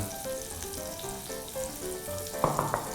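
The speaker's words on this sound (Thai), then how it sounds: "เดี๋ยวจะทอดนะครับให้สี เหลืองสวยก่อนนะครับ" Canned fish deep frying in hot oil, a steady bright sizzle with a few sharper crackles and pops near the end, close and with no talk.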